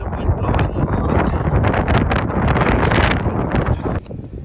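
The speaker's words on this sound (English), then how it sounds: "The wind is blowing very bad." Strong wind gusts roar across a metal roof during chimney flashing repair, a loud, continuous rushing buffet on the microphone that drops off sharply near the end.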